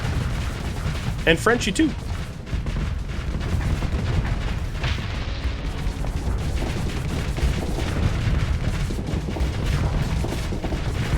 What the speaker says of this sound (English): Oh, missiles away